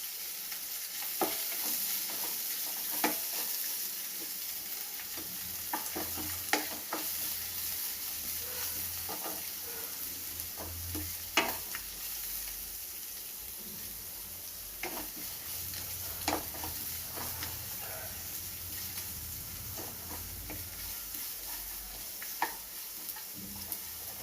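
Chopped onions roast in a hot pan for a Mangalorean-style chicken ghee roast, giving a steady close sizzle with scattered scraping clicks from stirring and no talk.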